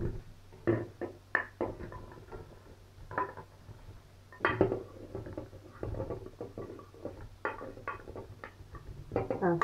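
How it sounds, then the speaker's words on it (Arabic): Chopped potatoes, pumpkin, leeks, onion, turnip and tomato tumbling into a pressure cooker pot for vegetable soup, a long run of irregular close knocks and clatters against metal with brief pauses between handfuls. "دابا غنوضع هذا الشيء كله في الكوكوط"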